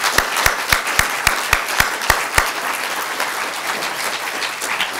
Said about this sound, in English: how about a round of applause for all of the candidates?